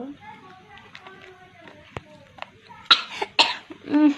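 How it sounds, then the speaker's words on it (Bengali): A person with a cold coughs several times in quick, harsh bursts near the microphone, mixed with throat clearing and bits of household talk and movement. "বহুত কাশি হয়েছে।"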